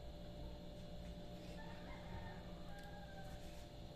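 A flock of hens clucks while a rooster crows, all under a steady wash of broadband background noise; no one speaks.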